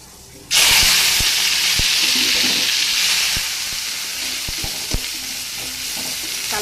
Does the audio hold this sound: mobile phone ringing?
no